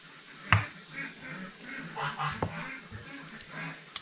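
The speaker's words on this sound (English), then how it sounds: "Oh gosh, them ducks." Ducks quack outside in a noisy, scattered chorus, a few sharp calls standing out over steady background racket at moderate distance.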